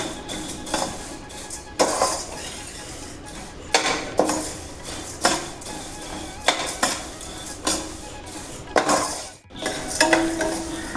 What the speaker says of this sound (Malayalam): ഇത് ലൈറ്റ് ഗോൾഡൻ കളർ ആവുന്നത് വരെ വറുക്കാം.